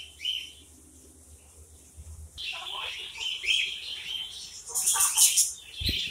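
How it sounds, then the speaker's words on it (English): Birds chirp and flutter inside a reptile zoo aviary, bright tweets rising in bursts over a low hum, with someone talking in between. "I'm in here with the birds now."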